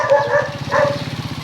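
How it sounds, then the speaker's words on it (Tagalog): A dog gives a few close, fairly loud barks over a steady rhythmic engine-like hum, with no talking at the moment. "Dito. May dog dito."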